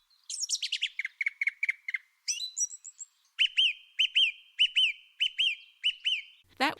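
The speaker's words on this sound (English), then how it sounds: "isn't that the pleasure of birdsong?" Garden songbird singing alone at close range: a rapid series of repeated chirped notes, then a brief twiddling trill, followed by a steady run of evenly spaced, rising whistled phrases.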